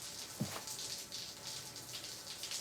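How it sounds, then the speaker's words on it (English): Steady hiss of running water, like a shower spraying, constant and moderately loud with a brief splash near the start. "I can hear the sound of running water."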